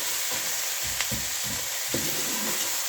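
Ginger, garlic paste and chilies fry in hot oil for a daal tarka, giving a dense, even crackling sizzle with a few soft stirring bumps, close up, with no talking.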